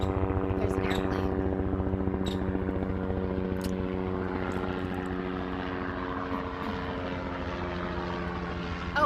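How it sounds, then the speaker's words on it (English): Helicopter passing overhead outdoors, a steady droning rotor and engine hum with strong tonal layers that holds loud and unbroken throughout, slowly easing slightly in level. "Oh, it's a helicopter."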